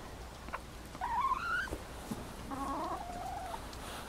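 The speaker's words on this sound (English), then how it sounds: "Chicken checking out the hives." A chicken near backyard beehives calls with a couple of rising clucking squawks close by, followed by a softer, longer drawn-out call against quiet outdoor background.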